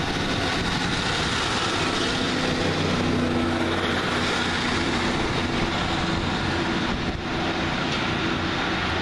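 A Northern Rail train at a station on a Leeds via Dewsbury service, a steady loud rumble of engine and rolling stock held close throughout with no talking.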